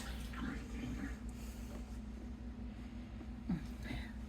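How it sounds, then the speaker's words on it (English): Kitchen tap water running into a sink while egg is rinsed off hands during breakfast burrito cooking, a steady splashing wash with faint voice fragments and a low background hum. "let me wash the egg off my hand"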